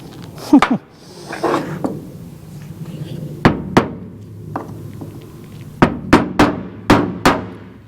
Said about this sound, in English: Let's just start hammering.